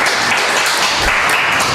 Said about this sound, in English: An enthusiastic round of spontaneous applause for you, which is well-deserved